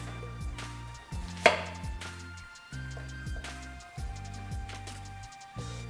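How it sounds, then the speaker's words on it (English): A knife cuts a cauliflower head in half on a cutting board, with several firm chopping strokes and crunchy cuts, close and clear with no talk. "The next thing we're going to do is cut this cauliflower right in half."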